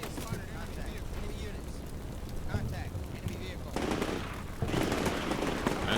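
Machine gun fire in the Combat Mission Shock Force 2 war game, a dense, continuous rattle of automatic bursts that swells louder in the last two seconds, with no voices.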